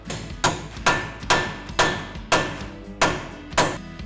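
Sharp metallic hammer strikes land on a 1-inch thin wall socket, seating a Dynatrac HD ball joint into a Jeep Wrangler JK axle. About nine evenly spaced, close, ringing blows sound alone.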